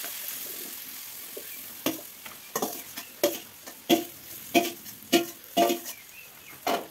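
Jackfruit pieces sizzling in a pan with fried onion, stirred with a spatula in a series of distinct scraping strokes over a low background crackle.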